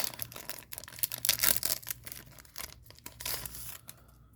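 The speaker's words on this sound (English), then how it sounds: "let's open up our second pack" A Fox Kids cartoon trading card pack is torn open close up, giving bursts of tearing foil and crinkling wrapper that rise and fall in short, uneven rips.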